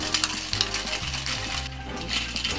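Clams in a covered pan with white wine over high heat, shaken so the shells rattle and clink in repeated bursts over a steady bubbling sizzle, fairly close.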